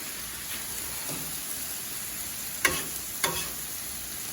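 Chicken, carrots and shrimp stir-frying in a pan for stir-fry noodles give a steady, close sizzle, broken twice by sharp clacks of a utensil against the pan, with no voices.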